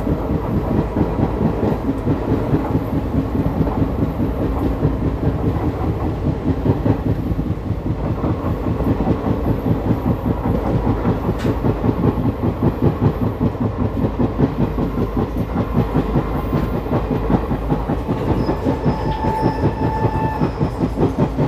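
The 14230 Haridwar Express rolls away from Rishikesh toward Haridwar, its steady wheel rumble and rhythmic clickety-clack filling the whole stretch at close range, with a faint distant horn near the end.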